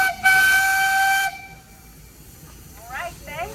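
A steam engine whistle blows one loud, sustained blast for about a second at an outdoor threshermen's jubilee parade, followed by a quiet lull and a couple of distant chirping whistle-like sounds.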